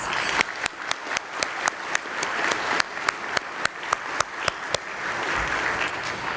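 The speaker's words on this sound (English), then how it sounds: "Let's give them a round of applause." An audience applauds a high school orchestra at an education foundation evening event, a steady wash of clapping with a few sharp, regularly spaced louder claps standing out near the front.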